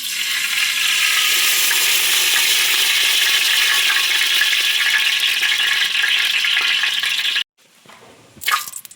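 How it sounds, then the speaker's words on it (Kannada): Hot oil in a pan fries loudly for a chicken gizzard dish, a dense, steady close-up sizzle that runs unbroken for several seconds before cutting off, followed by a brief quieter rustle. "ಮೊದಲಿಗೆ ನಾವು ಎಣ್ಣೆ ಹಾಕ್ಕೊಳ್ಳೋಣ."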